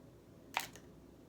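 A single quick spritz of perfume from a sample vial hits a paper test card, one short hissy burst in an otherwise quiet room.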